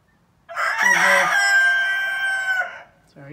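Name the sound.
rooster crowing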